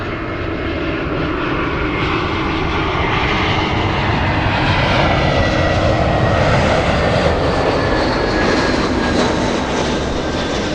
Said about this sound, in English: American 27 flying to Haneda. That is a 787-9 Dreamliner.